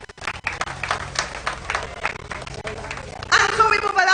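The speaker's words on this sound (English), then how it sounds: "let's give a round of applause for Miss Keisha Virgil" Audience applause for Miss Keisha Virgil at a live street broadcast event; a short burst of moderate clapping under crowd noise, growing louder and brighter toward the end.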